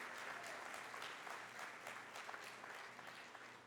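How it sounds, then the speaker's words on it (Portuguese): A church congregation applauding, a quiet, even wash of many hands clapping together with some crowd murmur and faint talk underneath, tapering slightly toward the end. "Dê um aplauso ao Senhor pela vida de Charles."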